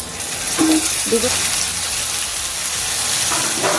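Grated tomato tipped into sizzling fried ginger and garlic in a pan for a spicy taro curry, producing a loud, close, continuous frying hiss with brief faint vocal sounds beneath it.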